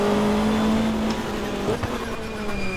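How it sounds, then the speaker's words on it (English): Touring cars from the GTR2 racing game at Calder Park, including a red BMW in a close pack, roar and rev loudly nearby, with engine pitch shifting as cars pass and brief tire noise. "So that's a real gaggle of cars."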